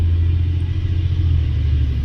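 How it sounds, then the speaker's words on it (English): A garbage truck rumbles steadily outside, a loud, continuous low engine drone with no breaks and no voices. "The garbage truck is here."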